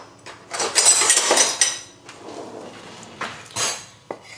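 A knife roughly chopping fresh parsley on a cutting board, giving a quick, uneven run of crisp knocks and scrapes close by, a brief pause, then a few more clustered strikes.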